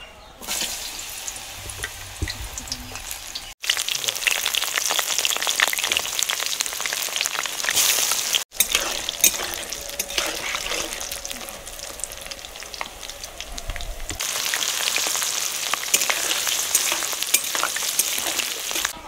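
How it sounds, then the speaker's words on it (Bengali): Lentil dumplings (dal bori) fry in hot oil with a steady, close crackling sizzle that runs throughout, swelling louder in stretches and broken by two brief gaps. "তেল গরম হয়ে গেছে, এবার আমি ডালের বড়িগুলো প্রথমে ভেজে নেব।"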